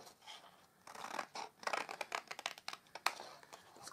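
Small scissors notching score lines into card for a gift bag, a quick run of short, crisp snips and scrapes close by, quiet and uneven, with no talking.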